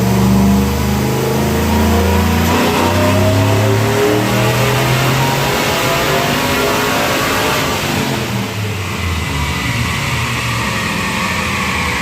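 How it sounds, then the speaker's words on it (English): Stock 5.3 truck engine fitted with a cam roars through a full dyno pull, a loud, continuous rev climbing steadily in pitch with a heavy low rumble throughout and no talking. "here's the dyno pull"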